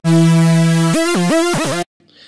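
The Everlasting bass preset on Logic Pro's ES2 synthesizer plays a sustained low tone, then a few rhythmic pitch-bending notes, loud and alone, cutting off abruptly into near silence.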